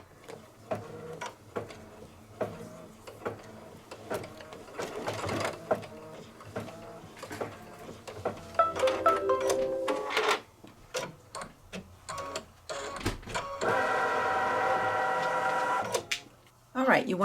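An embroidery machine tacks down stitches on a potholder held in a hoop, giving a rapid mechanical chatter that starts and stops in bursts, with someone talking over it and workshop noise in the background.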